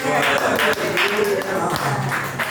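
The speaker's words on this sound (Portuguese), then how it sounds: "Aplauda o Senhor que merece." A church congregation claps together in a dense, lively burst, with voices and a loud reverberant mix layered over the clapping.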